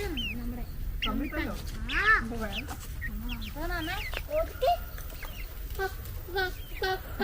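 Chickens cluck and squawk repeatedly nearby, a busy string of calls running throughout with steady background noise.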